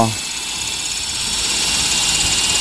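Remote-control helicopter rotor whirring at a high, steady pitch as it spins up to full speed, loud and close, with a faint voice talking underneath.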